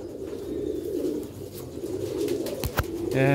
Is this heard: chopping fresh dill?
no